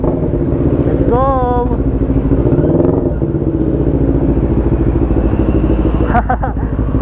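A 2022 NK400 V4 motorcycle fitted with an upgraded exhaust pipe idles loud and close with a deep, steady rumble, blipping its throttle in a few short revs while people talk nearby.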